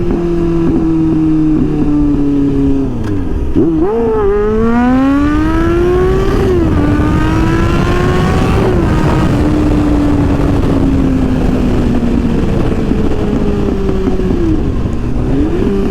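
A motorcycle engine revs close and loud, rising and falling in pitch as the throttle opens and gear changes cut in, a steady roar throughout.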